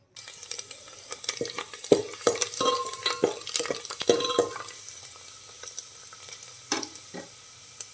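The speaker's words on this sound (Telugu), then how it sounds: "ఒక గిన్నెలో నూనె వేసుకొని అది వేడైన తర్వాత ఆవాలు జీలకర్ర వెల్లుల్లి వేసుకొని వేయించుకోవాలి" Mustard seeds, cumin and garlic fry in hot oil in a pot for a cabbage and chana dal curry. A steady sizzle runs under sharp pops and stirring scrapes that cluster in the first half, then thin out.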